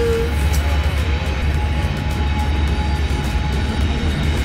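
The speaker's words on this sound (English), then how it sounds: "Sorry about the train, guys." A train rumbles past nearby in a loud, continuous roar with low rolling noise and faint metallic squeals throughout.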